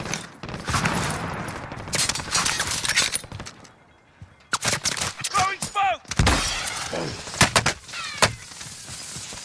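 Gunfire in a Call of Duty Warzone match, loud bursts of rapid shots and sharp single cracks in uneven clusters, broken by brief lulls, with players talking over the shooting.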